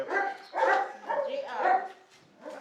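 A dog named Dilim barks in a short run of several barks with yips mixed in, close by and at moderate loudness, while people talk over and between them.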